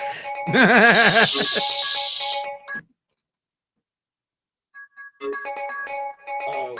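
A phone ringtone plays loud and close as a warbling electronic tune, breaks off into silence, then starts up again in short repeated bursts.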